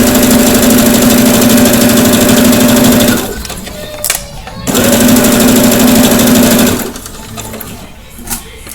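A sewing machine stitching and backstitching a seam on a simple homemade pillow runs loud and close with a steady whirring hum, stops briefly, resumes for another long run, then slows to softer mechanical clicks.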